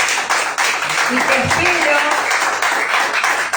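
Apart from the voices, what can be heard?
congregation applauding in church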